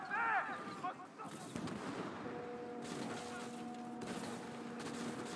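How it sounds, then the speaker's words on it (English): Mortar fire from an enemy ship during a naval battle in Skull and Bones, a few heavy booming shots amid layered game music and sustained tones, moderately loud. "Oh my god, there's even a mortar thing?"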